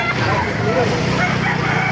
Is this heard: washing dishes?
no